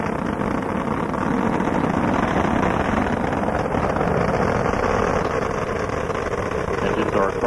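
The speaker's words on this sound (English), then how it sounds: "Engines at full throttle." Space Shuttle Atlantis main engines roaring at full throttle during a 1992 launch, a steady, dense broadband rumble with no breaks, loud and continuous, carrying faint radio-like voice traces underneath.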